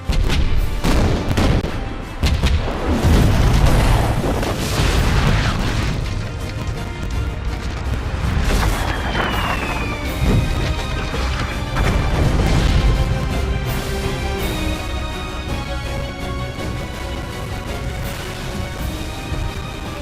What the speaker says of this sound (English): Prepare to run out the guns. On my command, fire!